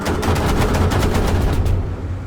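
Rapid bursts of autocannon fire from a German Sd.Kfz.222 armored car aimed at an M8 in War Thunder, a loud, fast rattling string of shots that stops abruptly near the end.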